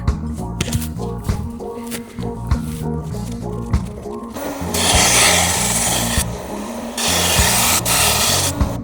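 A knife blade scraped and rubbed on a slow sharpener with the edge starting to burr, giving steady rasping strokes with louder, brighter grinding passes later on, close up and with no talk.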